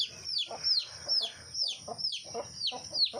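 Chicks and hens on a farm: a run of high, repeated peeping from young chicks over lower, softer clucking from hens, steady and close with a rhythmic pattern.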